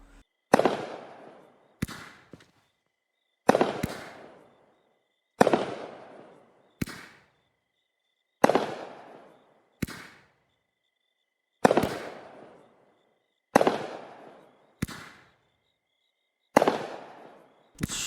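Shots from a fireworks cake in the Fireworks Mania video game, with about eleven loud, sharp bangs at irregular intervals, each decaying in a short crackle. No voices are heard.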